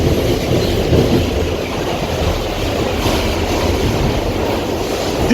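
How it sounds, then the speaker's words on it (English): A New York subway R68 train runs along the D line near Bleecker Street with a loud, steady rumble of wheels on track, close and continuous, with a faint clatter and no voices. "on a train, this is what, R68 with the funny seats."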